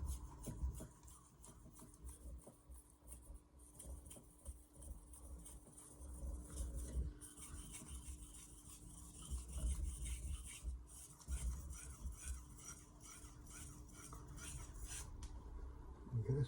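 A stainless steel knife scrapes in steady strokes across a Naniwa Aotoishi #2000 whetstone, a soft, continuous rasping rub that stays close and quiet for the whole stretch.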